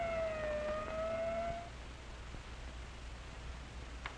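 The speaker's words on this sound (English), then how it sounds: "the ambulance brings in the victim of an accident that never should have happened" An ambulance siren wails in a single sustained tone that holds steady and then cuts off after about a second and a half, leaving low traffic rumble and background hiss.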